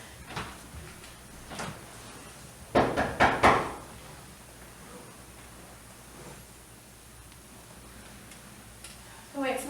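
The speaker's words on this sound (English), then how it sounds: "Go answer the door, Lucinda." Knocks on a door in an old drama's quiet interior: a tight cluster of several sharp raps, fairly close and distinct, followed by near silence with faint room noise.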